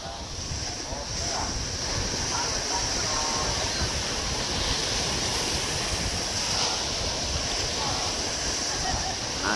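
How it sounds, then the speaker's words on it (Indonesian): Constant rushing roar of large surf at Pangandaran's east beach, Indonesia, and wind buffeting the microphone, loud and unbroken throughout, with faint voices buried underneath. "Ini kebetulan ini ombaknya lagi gede."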